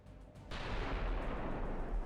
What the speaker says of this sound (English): There's the first muzzle blast from the Kaluga.